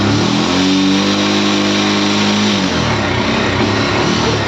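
A motorcycle engine runs loud and close in heavy rain, holding a steady revving drone before dropping off abruptly partway through, leaving rain and background noise.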